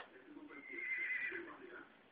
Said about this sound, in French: C'est quoi ça, c'est le cheval